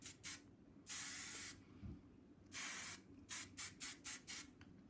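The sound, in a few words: hairspray being sprayed on a hair bun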